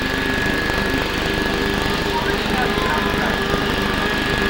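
Grasstrack racing motorcycles rev together at the start line, a loud, continuous, droning engine roar holding steady throughout with a faint buzzing overtone.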